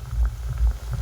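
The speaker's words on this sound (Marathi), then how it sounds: "मस्त पैकी असं तळून घ्यायचं आहे बघा." Cabbage fritters frying in hot oil give a dense, close bubbling sizzle that swells and eases in waves, with no voices.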